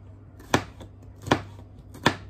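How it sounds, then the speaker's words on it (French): A knife chops through garlic cloves on a cutting board in a home kitchen, three sharp, evenly spaced strikes about three quarters of a second apart, close and distinct against a quiet background. "Je vais couper aussi les 3 d'ail"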